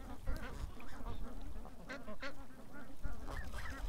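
Ducks or geese quack and honk in a busy, continuous chorus of overlapping calls, fairly close, over a rumbling background.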